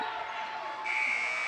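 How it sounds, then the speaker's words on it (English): A game buzzer sounds to end the first half of a girls' high school basketball game, Lakin Lady Broncs against Elkhart, a steady electronic tone that jumps louder and higher partway through over faint gym noise. "And at the buzzer"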